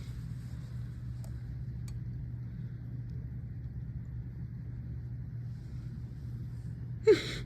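A car pulls up outdoors, a steady low engine and road rumble running throughout, with a brief sharp noise near the end.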